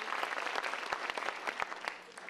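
A theatre audience applauds at a Grupo Canajo play performance in New York, a dense burst of many hands clapping briskly and evenly that tapers slightly at the end.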